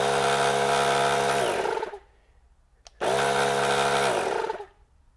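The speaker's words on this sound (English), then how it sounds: "It's going to fire up the compressor." The air compressor built into a VTOMAN V150 2500A jump starter runs loudly for about two seconds, winds down to silence and then starts up again for a second loud run, with a click in between.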